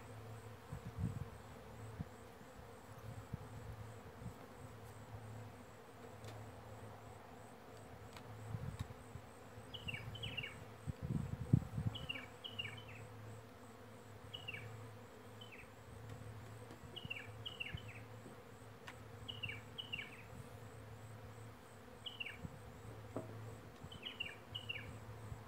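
Bees buzz steadily inside and around a wine barrel outdoors, a droning hum with louder swells as insects fly close, while small birds chirp repeatedly in the background.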